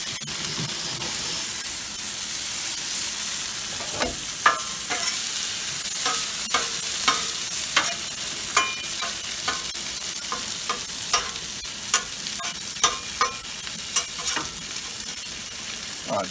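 Broccoli sizzles steadily on a Blackstone flat-top griddle, a continuous frying hiss broken by frequent sharp scraping and stirring clicks from a spatula, close and fairly loud with no talking.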